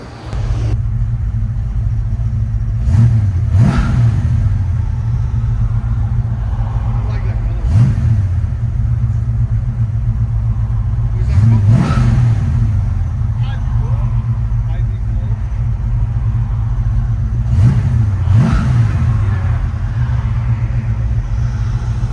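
A 1971 Mustang Mach 1 with a 351 V8, headers and a custom H-pipe rumbles at idle close by, rising in several sharp revs spaced a few seconds apart over a steady low exhaust drone.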